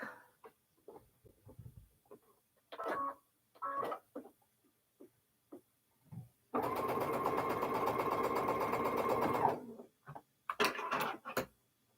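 A sewing machine stitches fabric pieces for a quilt block in one steady rapid run of about three seconds, close and clear, with scattered handling clicks and rustles before and after.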